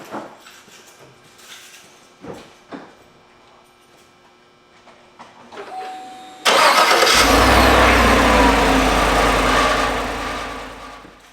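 Several clicks and clunks come first from a 2014-19 Chevrolet Silverado with a newly replaced starter, then the engine cranks and catches. It settles into a loud, steady idle close by.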